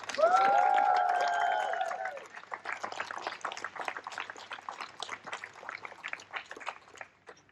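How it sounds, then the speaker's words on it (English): A crowd at an outdoor walk against hate applauds the event organizers, clapping rising under a sustained cheer or whoop, then continuing as scattered, lively clapping that gradually thins. "Can we please give them a round of applause?"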